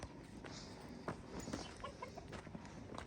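Chickens cluck intermittently in short bursts, fairly faint and a bit distant, over a soft background hum.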